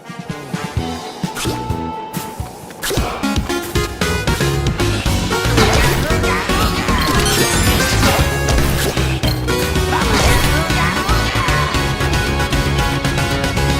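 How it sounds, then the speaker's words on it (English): Ice being smashed apart in DuckTales Remastered, repeated crashing and whacking hits over a dense, continuous game music bed, loud throughout. "I could use a bit of help smashing away this giant icebox."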